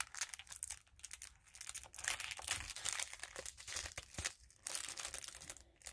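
Small paper mini envelopes crinkle and rustle as they are handled up close, irregular crackling bursts with brief lulls and no speech.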